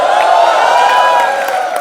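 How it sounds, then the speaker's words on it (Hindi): A dense studio audience cheers and applauds at a Kapil Sharma Show taping, a steady, loud wash of clapping and whoops sustained throughout with no letup. "नरगिस के लिए एक बार जोरदार तालियां हो जाए।"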